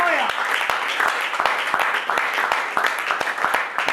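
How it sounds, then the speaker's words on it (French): Applause from a church congregation during a testimony service, steady clapping with distinct sharp claps standing out, while voices call out over it. "Est-ce que vous pouvez applaudir plus Seigneur?"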